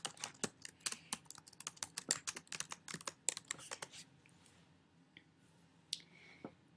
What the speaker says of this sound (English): then you want to type in an EDU behind it